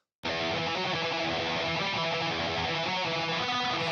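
A thick electric guitar through a Blackstar Dept 10 distortion pedal sustains a dark, mid-heavy tone, played continuously and loud after a brief silent start.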